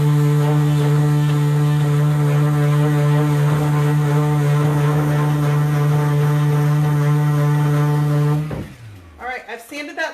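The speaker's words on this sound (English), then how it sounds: "So I want to sand through and get off whatever is going to come off." Sanding dry, chipped clear coat off furniture makes a loud, steady droning whir for about eight seconds before it cuts off, followed by a person talking.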